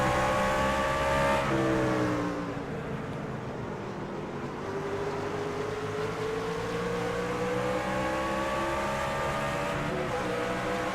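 Racing trucks at Watkins Glen roar past in a steady, close engine drone with a pitch shift as a vehicle goes by, engines holding a sustained whine throughout.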